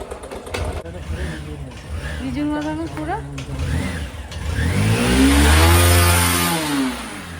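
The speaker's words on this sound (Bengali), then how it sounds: "মামার সাথে এখন বাইক চলবে বাইক চালাবে" A motorcycle engine idles, then revs up loudly and swells before easing back, while people talk nearby.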